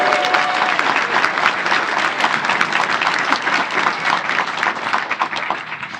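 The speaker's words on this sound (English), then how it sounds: "can we give one big round of applause for all of the" Audience applause for panelists at a Cosmere 401 fan panel, loud continuous clapping from a crowd, sustained evenly for several seconds with no talk over it.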